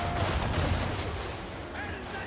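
A burst of firearm shots in Assassin's Creed 3 cracks out at close range, a dense clattering volley in the first second that fades into lingering rumble and echo.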